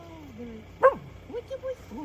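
A dog gives a few short yips and whimpering barks in a rural yard, heard close alongside people chatting quietly nearby.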